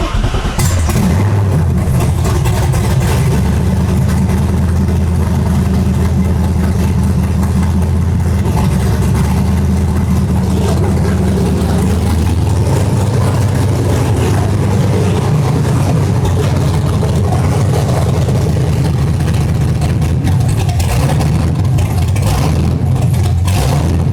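LS V8 swapped into a Rocket Bunny Toyota GT86, running loud on open headers with a harsh, throbbing rumble that holds steady for the whole stretch, close up, with no talking.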